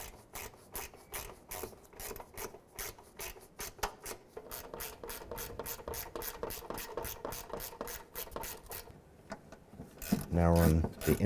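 Ratchet clicking while tightening 10mm bolts on a 2001-2007 Ford Escape headlight inside the fender well, a steady run of close, fast mechanical clicks with a louder burst near the end.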